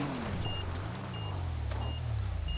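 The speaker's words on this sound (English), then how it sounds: "Why is it beeping?" Repeated high electronic beeps sound in GTA Online, evenly spaced short tones over a low rumbling vehicle engine.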